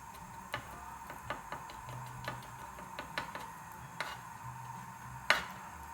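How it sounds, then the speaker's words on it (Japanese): Light, quiet taps of the back of a kitchen knife against a cutting board while preparing Japanese food, repeated at a steady pace, with one sharper knock near the end. "包丁の背中でこう叩くと簡単に"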